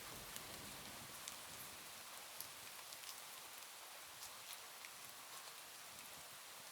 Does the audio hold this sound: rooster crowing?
no